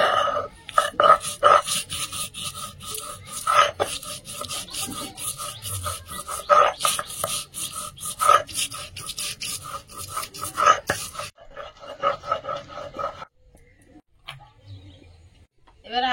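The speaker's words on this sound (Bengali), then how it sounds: "পোস্ত আর কাজু বাদামটা বেটে নেব।" Poppy seeds and cashews are ground on a grinding stone, with close, loud, repeated rasping and scraping strokes in a steady rhythm that fade out near the end.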